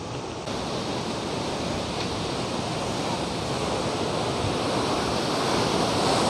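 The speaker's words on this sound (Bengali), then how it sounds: "এখানে আপনারা জলের স্রোতের আওয়াজও শুনতে পাবেন, প্রচণ্ড আওয়াজ" Loud, steady rush of a strong water current at a dam near a natural picnic spot in Bardhaman, West Bengal, a dense broadband roar holding constant throughout with no talk.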